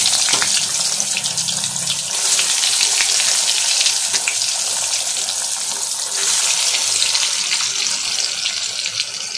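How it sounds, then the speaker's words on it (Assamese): Seasoned eggplant slices, rubbed with turmeric, salt and chili, fry in hot oil, giving a loud, steady hiss and crackle that persists throughout with small spattering pops, close and without talk. "তেল গৰম হৈ গ'ল, মই বেঙেনাখিনি এতিয়া ফ্ৰাই কৰি ল'ম।"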